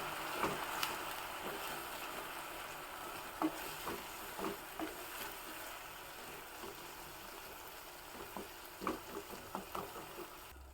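Coconut milk simmers gently in a pan, a soft continuous bubbling with small scattered pops and faint stirring clicks, quiet and close.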